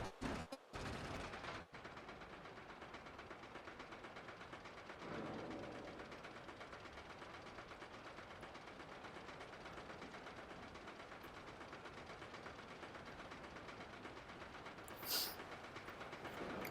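Roller coaster train on the final lift hill of a swinging family coaster in Planet Coaster, a steady rumbling clatter running throughout with a sharp hiss near the end.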